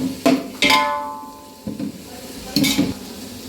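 Sliced onions with salt sautéing in a pan for pulao, with a soft sizzle broken by three or four sharp scraping stirs of a spoon against the metal, close by and without talk.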